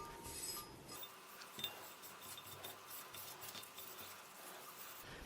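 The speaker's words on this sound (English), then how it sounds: "it is important we scrape it all off with steel wool" Steel wool rubbing and scraping black oxide off metal parts, a steady close abrasive hiss with a faint clink near the start, quiet and without talk.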